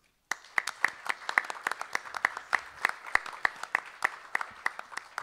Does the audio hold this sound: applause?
yes